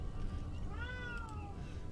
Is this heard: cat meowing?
yes